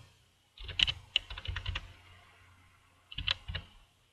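Keystrokes on a computer keyboard while typing into a text editor on a desktop: a short burst of close clicks, a pause, then two or three more taps, quiet and with no voices.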